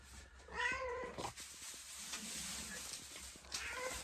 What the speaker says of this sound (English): We're going to have to work with the cat.